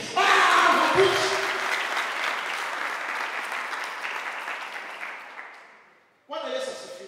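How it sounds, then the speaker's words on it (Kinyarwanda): A church congregation applauds loudly in a thick, steady wash of clapping that slowly fades away, and a voice starts speaking right after it dies out. "akomeye amashyi"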